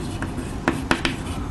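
Pen writing a number on paper or a board, a few short scratchy strokes and taps spaced irregularly, close and moderately loud with no talk.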